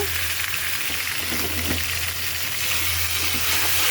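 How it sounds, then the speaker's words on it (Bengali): Ginger, garlic and onion paste frying with goat meat in a hot pan, a steady close sizzle with occasional stirring scrapes throughout, no talk. "মশলাটা একটু ভাজা ভাজা হোক"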